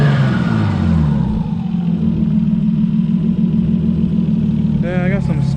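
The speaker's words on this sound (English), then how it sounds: "Wow, it's really not idling right." A Nissan R32 Skyline engine idles roughly nearby with a loud, steady low rumble that wavers slightly throughout, and a brief higher tone rises near the end.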